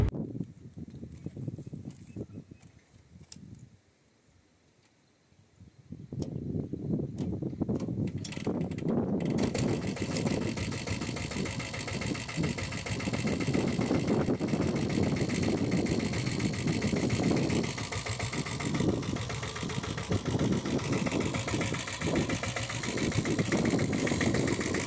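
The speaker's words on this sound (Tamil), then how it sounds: "அப்படியே அந்த வண்டியை ஸ்டார்ட் பண்ணி காமிச்சிடறேன்" A 7.5 HP diesel Bullet motorcycle fires up after a few quiet seconds, then settles into a loud, steady, thumping idle that runs on without a break.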